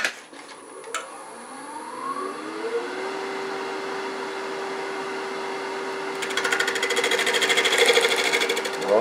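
Negative rake scraper cutting a cherry bowl on a wood lathe, a steady whirring hum with a rising whine, then a louder, rougher buzzing scrape near the end as the tool bites, close and alone.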